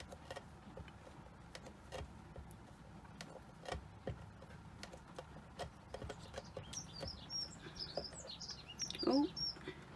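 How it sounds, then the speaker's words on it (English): Blackbirds singing outside, faint chirps and a brief song phrase toward the end, distant under quiet indoor clicks and rustling. "the blackbirds have returned. We always get a lot of blackbirds around here. They're so lovely. They're always singing away."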